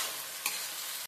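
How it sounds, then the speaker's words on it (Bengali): Onions frying together with ginger garlic paste for a dak bungalow chicken curry, giving a steady, close hiss of sizzling with a brief stir or scrape midway, no voices. "আদা রসুনের পেস্ট দিয়ে আমি একসাথে পেঁয়াজের সাথে ভেজে নেব"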